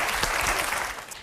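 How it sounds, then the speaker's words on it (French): Studio audience on a French television show applauding, a dense burst of clapping that fills the short moment at steady loudness. "On peut l'applaudir."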